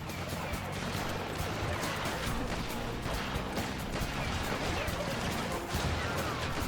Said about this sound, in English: there's so much gunfire going on